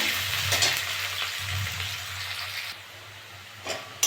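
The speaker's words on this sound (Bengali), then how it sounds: "আমি এবার পেঁয়াজ দিয়ে দেবো পেঁয়াজটা ভালো করে ভেজে নেব" Onions fry with spices in a pan for aloo dum, giving a steady close sizzle broken by scraping stirs, quieting briefly near the end before another stir.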